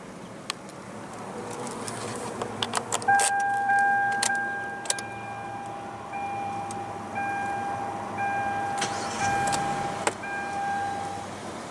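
A 1.8-liter inline four-cylinder engine in a 2016 Hyundai Elantra idles with a steady low rumble, broken by scattered clicks and a faint intermittent electronic beeping.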